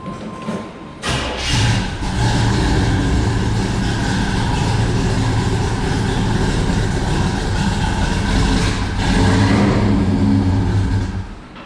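A big-block hot rod with a four-speed idles and revs, a loud, throbbing low rumble that starts abruptly after a second and holds steady, swelling briefly near the end.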